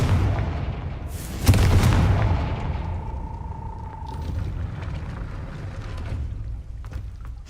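A Confringo fire spell explodes in Hogwarts Legacy with a deep booming blast and a rumbling tail that fades into low ambience. A lingering tonal hum follows, heard alone without talk.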